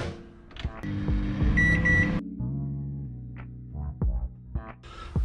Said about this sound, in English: Just gonna chuck 3 in the microwave.